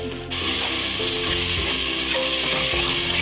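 Tomatoes and green chillies frying in masala for mutton keema, a sudden burst of loud sizzling that settles into a steady close crackle with light stirring.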